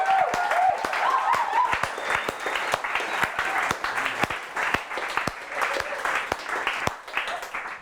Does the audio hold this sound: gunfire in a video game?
no